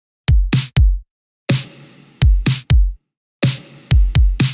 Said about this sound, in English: I'm just layering up a big roomy snare